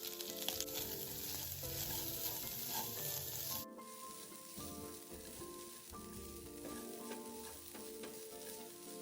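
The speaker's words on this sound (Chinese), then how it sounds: "与其他食材一起拌炒。" Shredded taro, char siu and minced garlic stir-fry in a hot wok for traditional taro cakes, loud continuous sizzling with scraping stirs and a sudden drop in hiss partway through, no voices.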